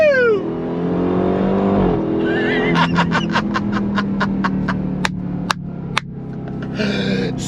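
A 2025 Dodge Durango Hellcat Hammerhead SUV engine roars close by and climbs in pitch, then a series of sharp rapid pops and crackles follows during quick downshifts.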